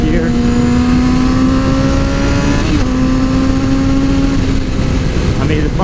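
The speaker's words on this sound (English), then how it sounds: "Just downshift into 4th gear." A 2007 Yamaha R6 600cc sport bike pulls hard in 4th gear after a downshift. Its engine gives a loud, steady, high-pitched drone from close by with a brief dip partway through, and wind noise runs throughout.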